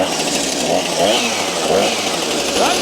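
Husqvarna 455 Rancher chainsaw with a swapped carburetor and intake block, run on a dyno: a loud, close, continuous two-stroke engine whine that rises and falls slightly in pitch throughout.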